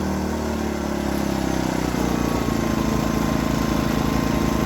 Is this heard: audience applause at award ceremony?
no